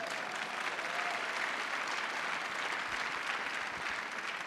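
Steady audience applause fills a space symposium hall, a dense, even clatter of many hands clapping at moderate distance without a break.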